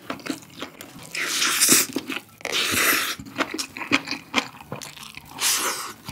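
Close, crisp crunching and biting as perilla leaf wrapped around yeolmu kimchi bibimbap from a GS25 jumbo convenience-store lunchbox is chewed, in uneven bursts of mouth noise with no talking.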